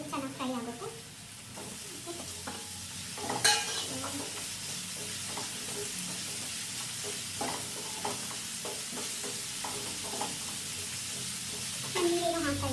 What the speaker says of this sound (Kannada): ಟೊಮೆಟೊ ಫ್ರೈ ಆಗಿದೆ, ಮತ್ತು ಬ್ರಿಂಜಲ್ ಹಾಕಿಬಿಡೋಣ.